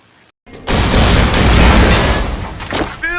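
Gunfire in a film gunfight erupts after a brief silence as a loud, dense burst of overlapping shots and booms, sustained for a few seconds before thinning out.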